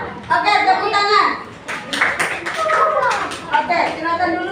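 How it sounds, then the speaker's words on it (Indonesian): Schoolchildren in a classroom clap for a group's poster, a busy patter of many small hands mixed with children's voices and chatter throughout. "tepuk tangan"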